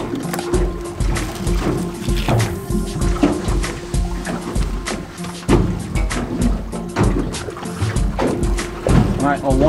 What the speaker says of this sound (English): Especially if you're an alum in your boat, it's so noisy. You can probably hear the boat now.